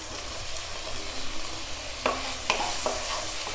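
Chopped tomato hits a pan of frying onion, ginger and garlic for kothu chapathi, giving a steady close sizzle with a few sharp crackles and stirring clicks near the end.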